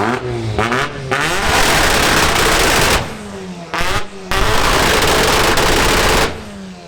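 A turbocharged custom car pulling away from a car show, engine revving hard in bursts with rapid loud popping and crackling as boost is released, close and very loud, with brief gaps between pulls.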